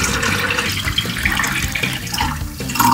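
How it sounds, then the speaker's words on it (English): Tap water runs steadily into a plastic bag nearby, gurgling and rising slightly in pitch as it fills, with no voices. "Now we have to fill this up with water."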